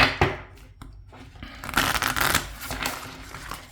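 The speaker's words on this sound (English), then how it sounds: "I'm going to shuffle these cards up." Rapid papery riffling and soft slaps of cards being shuffled by hand, close up, in uneven bursts with brief pauses, no talking.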